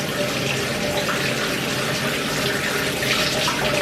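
Tap water runs steadily and fairly loud while hair dye is rinsed out at home, a continuous splashing hiss with no talking over it.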